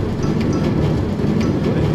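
A Minecraft subway train runs with a steady low rumble and rolling rail noise, close and loud, continuous throughout with faint rhythmic clicks.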